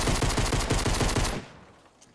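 A basic pistol in the Fortnite video game fires a quick run of about ten sharp, evenly spaced shots, loud and close, before cutting off and leaving a short fading tail.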